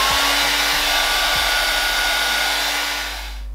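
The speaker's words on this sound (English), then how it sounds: "I'm going to dry the edges with the hair dryer" A hair dryer blows steadily and loudly while drying the edges of a curly wig after installation, a continuous close whoosh that fades a little near the end.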